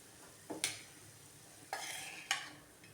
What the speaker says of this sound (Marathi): चटणी आपण प्लेटमध्ये काढून घेऊया